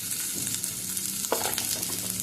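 Nigella seeds (kalo jeere) fry in hot oil with chopped onion and garlic for a cauliflower bharta, a close, steady sizzle with a few light stirring scrapes and no talk.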